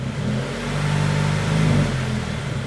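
Toyota GR86 engine revving as the gas pedal is pressed, a steady close mid-pitched engine drone that rises slightly in the middle; no talk.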